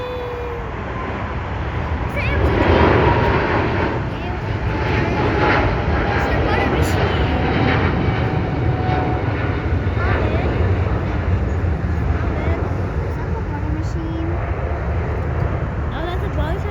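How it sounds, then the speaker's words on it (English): A Boeing 777 airliner passes at LAX with a broad roaring rumble that swells after a couple of seconds and holds steady, while people talk throughout. "Oh, that's a Boeing 777."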